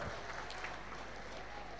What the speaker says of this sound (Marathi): या तिन्ही परीक्षकांसाठी एकदा जोरदार टाळ्या